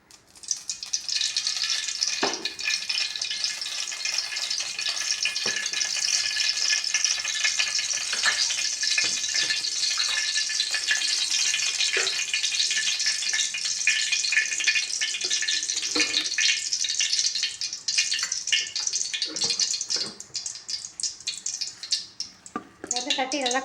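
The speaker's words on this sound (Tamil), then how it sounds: "சட்டி காஞ்சிடுச்சு, எண்ணெய் ஊற்றிக்கலாம் நம்ம." Oil poured into a hot, dry kadai, setting off a loud, continuous sizzle and crackle that holds steady for the whole stretch, with a few faint clatters of utensils mixed in.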